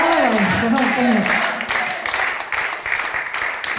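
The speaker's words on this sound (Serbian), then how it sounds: "vidi kakav aplauz, kakav pozdrav" Studio audience applauding during a TV music show, a dense steady wash of clapping that runs throughout with a voice talking over the start.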